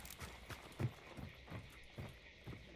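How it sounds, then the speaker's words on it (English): Players in a video game stomp about nearby, a series of soft, irregular thudding footsteps at low volume, with no talking. "I think I still hear them stomping around over here."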